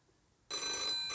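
A telephone bell bursts into a loud, bright, sustained ring after a half-second of quiet, near and with no talking.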